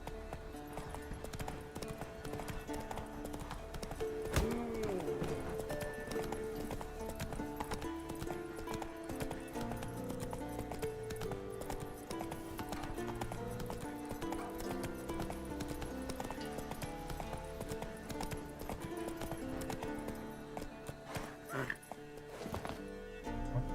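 Roach the horse trotting in The Witcher 3: Wild Hunt, with steady clip-clop hoofbeats running the whole time, layered with game music and a voice talking over them.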